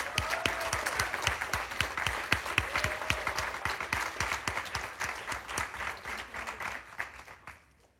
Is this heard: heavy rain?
no